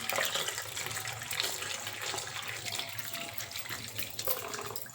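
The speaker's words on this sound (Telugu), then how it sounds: "ఈ లోపల మునగా శుభ్రంగా కడుక్కుందాం మనం ఇలా వాటర్లో పోసేసుకుని" Drumstick leaves are washed in a vessel of water, producing a continuous soft splashing and swishing close by, with no talking.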